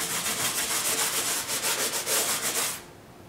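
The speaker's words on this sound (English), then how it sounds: "break out some sandpaper and sand some of these areas up here" Sandpaper is rubbed by hand over patched drywall in rhythmic back-and-forth strokes, a close, dry scratching that repeats about five times a second and then stops.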